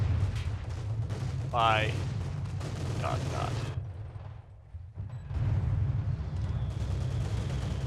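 Mortar fire from a Company of Heroes 2 battle booms and rumbles under steady low battle noise, with some faint voice lines, then briefly dips before the din returns.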